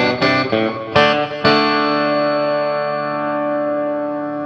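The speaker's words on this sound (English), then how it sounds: "gives you a wide array of classic two pickup Strat tones," A Stratocaster-style electric guitar rings out clean: a few plucked notes, then a strummed chord left to sustain and slowly fade with a bright, sparkly two-pickup tone.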